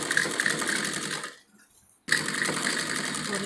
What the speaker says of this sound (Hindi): इसको भी हमें बिल्कुल मिलाकर सिलाई लगानी है